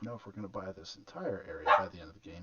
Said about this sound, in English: Sorry if you heard my dog there in the background.